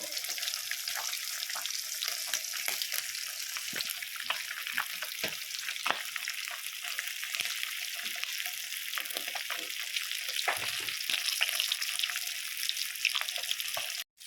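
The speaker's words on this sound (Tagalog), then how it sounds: "So ngayon po ang aking pagpiprito" Food fries in hot oil, a steady dense sizzle and crackle that runs unbroken for the whole stretch, with small pops and scraping stirs scattered through it.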